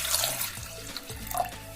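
About one and a half glasses of water is poured into a pressure cooker holding cleaned jackfruit seeds, a brief, close splashing and gurgling pour with no talk.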